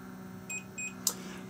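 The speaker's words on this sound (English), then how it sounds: "it has reached 55 degrees Celsius and it will keep running and beep again when it hits 65 degrees Celsius" A Nanofoamer Pro milk frother reaching 55 °C gives two short, clear electronic beeps in quick succession over a faint steady motor hum, followed by a small click.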